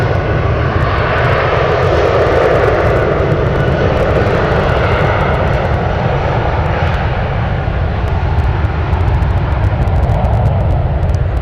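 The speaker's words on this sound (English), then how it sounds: "I think this is gonna take off sideways because we are getting lots of crosswind right now" Jet engines of an airliner roar loud and steady as it takes off at San Francisco airport in gusty crosswind, a continuous broad rumble with no break across the whole stretch, near and filling the scene.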